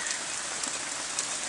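Steady rain patters densely on a surface, an even hiss with no pauses and no voices.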